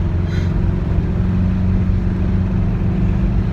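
A 1966 Volkswagen being driven at low speed: a steady, loud engine drone with constant road rumble, unchanging throughout and without talking.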